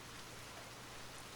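Steady rainfall, a soft, even hiss of drops on surfaces that continues unbroken and fairly quiet, with no voices.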